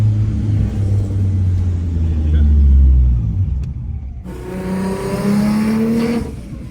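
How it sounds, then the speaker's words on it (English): Deep, loud exhaust rumble from a car fitted with a Vortech supercharger, heard from inside the cabin, the engine note rising and shifting as it revs, with people talking over it. "Yeah, it's loud, the exhaust though."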